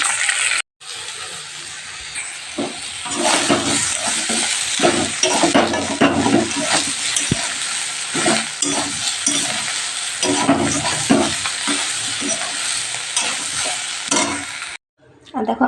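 Soybean chunks fry in a pan, sizzling steadily while a spoon stirs and scrapes with repeated close, clattering strokes.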